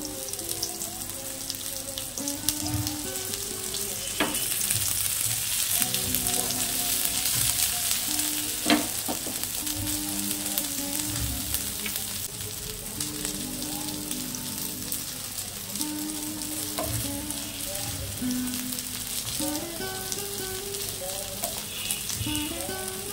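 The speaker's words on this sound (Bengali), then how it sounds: "সবগুলো একবারে ভাজা হবে না, বাকিগুলো পরে ভেজে নেব।" Sweet corn tikka patties fry in a pan over a medium-low flame, giving a steady crackling sizzle that persists at low volume with occasional sharper pops and no talk.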